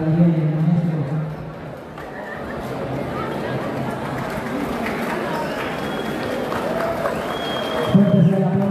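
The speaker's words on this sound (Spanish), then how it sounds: "Fuerte el aplauso para el maestro Diego Urquía" A crowd applauds a music instructor at a band festival awards ceremony. The broad, continuous clapping and crowd noise runs the whole way through, while a voice speaks over it at the start and end.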